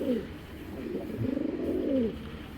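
A pair of pigeons coos in a loft, low rolling calls rising and falling across the moment, fairly close and steady, with a faint murmur of background noise.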